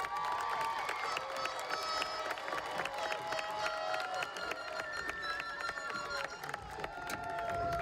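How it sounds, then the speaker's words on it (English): A high school graduation crowd gives a sustained round of applause, with dense clapping and scattered cheers and whistles filling a large space at an even level. "Graduates, please give these people a round of applause."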